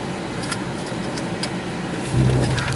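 A car backing slowly across a backyard lawn in reverse, its engine running low and steady up close, with a louder rumble of added throttle near the end.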